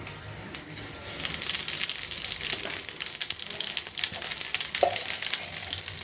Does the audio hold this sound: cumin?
yes